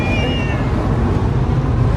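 A wet kitten that has just fallen into water gives a couple of thin, high meows near the start, over a dense, steady background rumble, with no clear speech.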